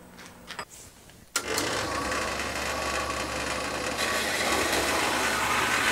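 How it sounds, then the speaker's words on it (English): A bandsaw cuts chunks off a steel workpiece for a target, starting with a sharp bang after a brief, quiet stretch, then running as a steady, grinding cut that continues to the end. "Let's go throw it in the bandsaw and cut some of these chunks off."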